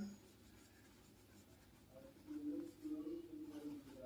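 Pen or pencil writing a word on paper in a classroom-style setting, a soft continuous scratching that grows louder and more textured in the second half, alone with no talk.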